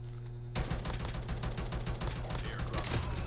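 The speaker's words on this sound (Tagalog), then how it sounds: "Narinig ko yung putok ng baril." Rapid gunfire bursts in a Call of Duty battle royale match, starting abruptly after a brief quiet moment and continuing as dense, sharp overlapping shots with scattered sounds in between.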